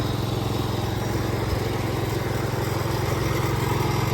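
An Onan engine on a small tractor runs steadily and loudly up close, with an even, rapid putter and no pauses or voices, running low on fuel.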